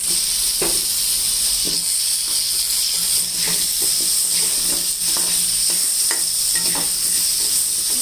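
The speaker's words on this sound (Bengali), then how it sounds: "প্রথমে তেলটা গরম হয়ে গেছে এরপর আলু কেটেছি সেটা একটা করে লাল লাল করে ভাজবো" Cut potato pieces for a mutton curry frying in hot oil, a loud continuous sizzle close up, broken by several sharp stirring and scraping strokes at irregular intervals, without any talk.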